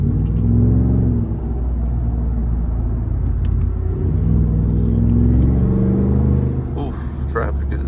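Loud Ford F-150 with a 5.0 V8 engine driving in heavy afternoon traffic, a constant deep rumble with steady engine drone heard from inside the cab, close and dominant throughout.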